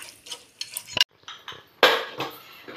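A metal spoon stirs meat being roasted in a cooking pot, giving close, uneven scraping and clanking bursts against the pot, with one sharp, louder scrape standing out near the end.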